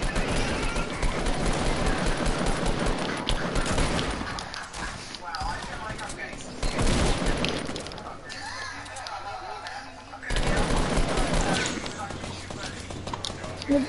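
Bursts of rapid gunfire and hurried footsteps from a Fortnite match, loud and dense, easing off midway before another heavy burst, with voices talking over parts of it.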